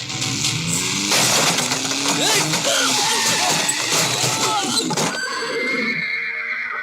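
A horse whinnies loudly and close for several seconds, with a long wavering neigh over hoof clatter, then the sound drops away into quieter background.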